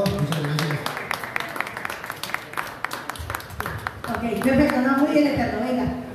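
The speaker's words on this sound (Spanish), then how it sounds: "un aplauso por favor para Eterno." Audience applause at a wrestling press conference, quick clapping from a small crowd for a few seconds, then a voice talking over the fading claps.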